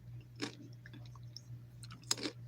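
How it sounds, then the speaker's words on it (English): Someone chewing a snack close to the microphone, two or three faint crunchy bites over a low steady electrical hum in a quiet room. "I'm going to stop for a snack."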